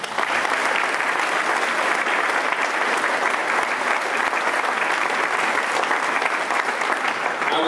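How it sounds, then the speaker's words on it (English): Sustained audience applause for veterans at a VA clinic opening ceremony in Huntsville, a steady dense clapping that holds at an even level throughout with no voices above it. "And so please join me in a warm round of applause for those men and women."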